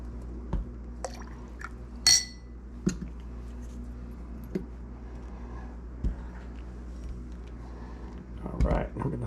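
A spoon stirs an Old Fashioned cocktail made with rich honey syrup over ice in a glass, giving scattered light clinks and taps, close and fairly quiet over a low steady background hum.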